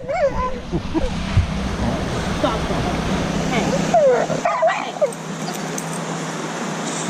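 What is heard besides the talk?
dog whimpering and barking on a leash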